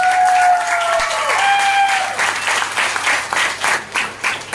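An audience claps loudly and continuously at a success-story gathering, a dense wash of applause that thins into scattered claps toward the end.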